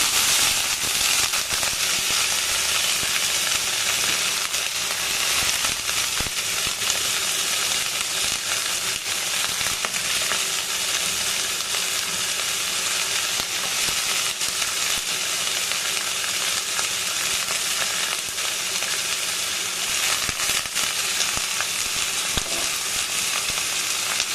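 Carrots and beans stir-fried in a pan for veg Maggi, a loud, steady sizzle running throughout with scattered crackles and pops, close up and with no voices.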